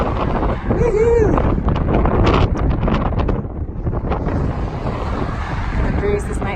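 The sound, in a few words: wind, cool headwind breeze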